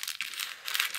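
Plastic wrapper of a Euro 2021 trading card multipack being cut open with scissors, giving a close, continuous crinkling and crackling with a few sharper rustles, without speech.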